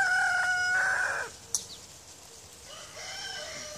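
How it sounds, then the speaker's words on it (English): A rooster crows loudly nearby, followed by a brief sharp noise and then more clucking and crowing from fowl. "Birds are making all sorts of noise today."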